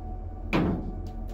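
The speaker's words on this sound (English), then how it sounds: "Close the door." An interior door is pushed shut in a reportedly haunted old courthouse lodge during a paranormal investigation, a single muffled close with a soft thud near the mic, then low room hum and faint movement.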